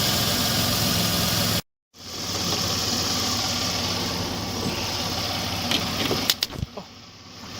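A cold diesel engine idles steadily after being started on a lithium battery, a continuous mid-pitched rumble with a brief dropout near the start and a few sharp clicks toward the end.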